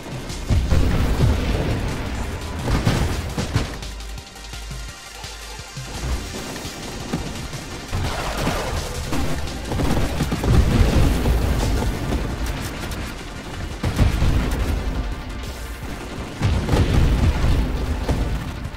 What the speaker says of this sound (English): The deflagration explosion from the Juggernaut covered pretty much the whole screen